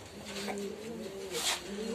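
Pigeons cooing inside a pigeon loft, low soft rolling coos repeating near the microphone with a brief brighter flutter or rustle midway, steady ambient hum underneath.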